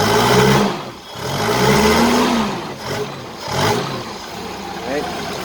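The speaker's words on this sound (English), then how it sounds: "Rev it up a bit." A Mazda car engine that was slow to start revs up and falls back in several rising and falling surges, fairly loud and close, with a person talking over it.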